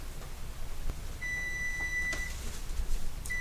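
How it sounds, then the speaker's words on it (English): A kitchen timer gives short, high electronic beeps, one sustained tone and a brief repeat near the end, over a steady background hum in a home kitchen. "Ooh, that's the timer."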